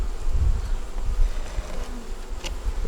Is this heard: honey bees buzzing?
yes